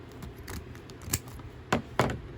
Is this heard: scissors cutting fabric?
yes